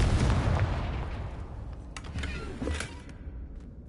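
A Confringo blasting spell from a PS4 game bursts into a loud, close, rumbling explosion that decays over a few seconds, with a brief second crackling flare partway through; no one speaks.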